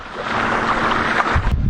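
Steady coastal wind roars and buffets the microphone on an ocean kayak off Dutch Island, Rhode Island, with a low rumbling gust toward the end and faint water sounds underneath.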